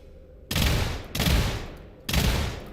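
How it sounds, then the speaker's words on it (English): Three loud, close blasts from a 12 gauge shotgun in the video game SULFUR, fired at a steady pace, each a deep boom that rolls on until the next shot. "We put you in 12 gauge. It truly is a shotgun now."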